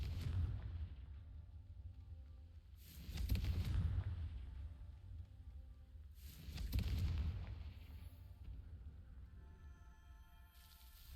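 The Confringo fire spell explodes in Hogwarts Legacy: two deep, rumbling booms a few seconds apart, each swelling and fading over a low continuous game ambience.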